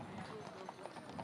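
Hooves of eight horses drawing the Garuda Prabayeksa ceremonial carriage toward Monas at an Indonesian Independence Day flag ceremony, a steady clip-clop under continuous crowd noise and commentary talk.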